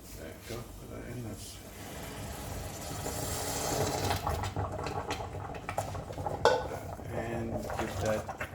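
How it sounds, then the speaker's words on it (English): Tomato soup thinned with water, stirred in a pot while it bubbles: a spoon clinks and scrapes against the pot under steady simmering, with someone talking over it. "And give that a quick stir."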